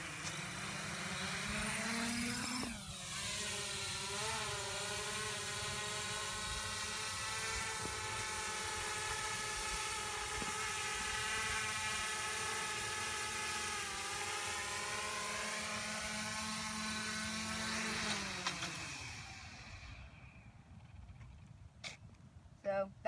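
A small drone hovers steadily in one spot, its rotors giving a continuous tonal whine with stacked harmonics that dips in pitch at the start and fades out near the end, close and loud.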